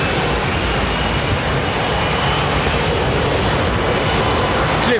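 A jet airliner on its takeoff roll from runway 27 right at London Heathrow Airport produces a loud, dense, continuous engine roar that holds steady throughout the short stretch, with no talk over it.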